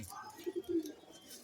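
Black pigeons kept at home coo softly, with a short run of low, throaty coos in the middle of a quiet moment.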